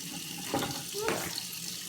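Water runs from a kitchen sink faucet during Thanksgiving turkey preparation, a steady, moderate splashing stream heard close by.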